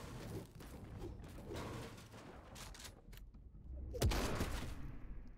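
Shotgun blasts in a video game, a few booming shots over a busy background of gunfire, with one strong heavy blast near the end, and a voice faintly talking underneath.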